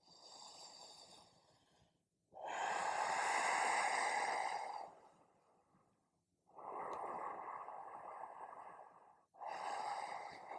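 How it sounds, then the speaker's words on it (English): Slow, deep breaths during a yoga flow: long audible inhales and exhales through the nose, three drawn-out cycles separated by quiet pauses, close and clear. "2 more breaths."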